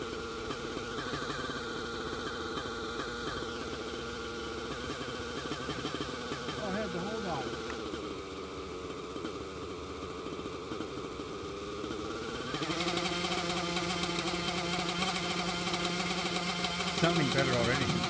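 TREX 700N nitro RC helicopter running on 30% nitro fuel in a hover, a loud continuous buzzing engine and rotor drone that shifts pitch and rises sharply near the end, with people talking over it.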